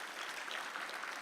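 A crowd gives a round of applause for high school prom couples, a short, even patter of many hands clapping that stays faint and distant throughout.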